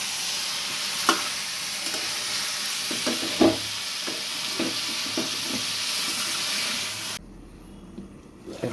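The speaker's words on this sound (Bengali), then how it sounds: "আমাকে একটু নাড়িয়ে দিই মশলার সাথে মাংসের এগুলো একটু সুন্দর করে" Meat being stirred with spices in a home pan, a continuous frying hiss with occasional scraping knocks of a spoon, fairly close, before the sizzle drops away near the end.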